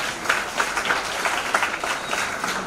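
An audience at a Lineman Day program in Thane claps steadily for about three seconds, a dense, even wash of many hands with small swells, with no clear voices.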